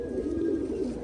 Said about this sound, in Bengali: এইসব পায়রা।